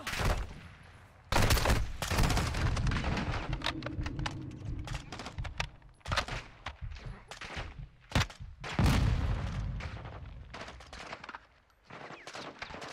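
Bursts of gunfire against an armored enemy in Modern Warfare 2, loud rapid automatic volleys and single shots, close, with short pauses between bursts.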